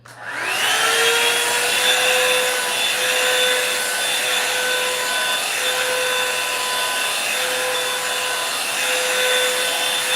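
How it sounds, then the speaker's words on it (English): Blow dryer drying hair, switching on and spinning up to a loud steady whooshing whine that runs continuously at close range, with no talk. "I'm sitting over here with the blow dryer doing"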